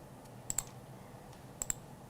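Computer mouse clicked while the Shift key is held: two quick pairs of soft, sharp clicks about a second apart, faint over a quiet room hum.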